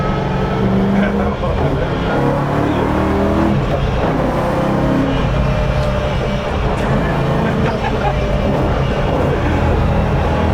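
A BMW E92 M3 track car built for the Nürburgring Nordschleife roars continuously from inside the cabin, its engine loud and steady through gear changes, while people talk over the noise.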